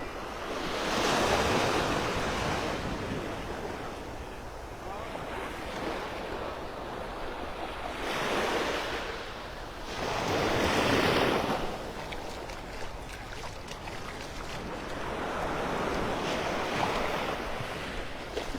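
Ocean waves roll onto Vanderbilt Beach in North Naples, Florida, in slow swelling surges every few seconds under constant wind rumble buffeting the microphone, with no voices.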